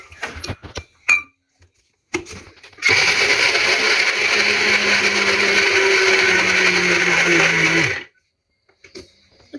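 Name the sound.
mixer grinder grinding peanuts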